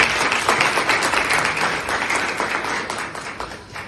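Parents in an audience applaud their children at a school parenting event, a steady wash of many hands clapping, full and fairly loud throughout, slowly thinning toward the end.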